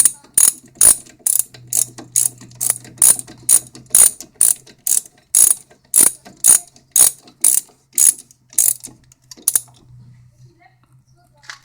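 A ratchet tightens the front brake caliper bolts on a 2005 Dodge Caravan, clicking close and loud in a steady series of about twenty sharp strokes that stop before the end.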